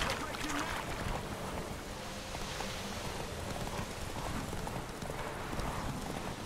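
Horse galloping in the video game The Witcher 3, a fast continuous drumming of hooves close and loud across the whole stretch with no pauses.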